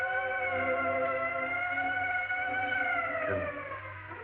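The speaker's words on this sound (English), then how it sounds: "The ambulance." An ambulance siren wails loud and close, its steady rising and falling tone holding for several seconds before pitching downward and fading slightly as it passes.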